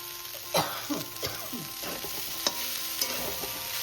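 Eggplant fries with onion in a pan as drumstick flowers go in, a continuous sizzle broken by several sharp spatula scrapes and knocks against the pan.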